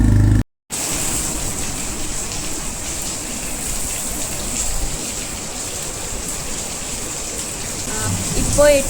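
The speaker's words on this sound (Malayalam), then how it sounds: "ഭയങ്കര മഴയാണ് കേട്ടോ ഇവിടെ" Steady, dense rain noise fills the scene, a constant wash of heavy rainfall close by after a brief silent gap at the start.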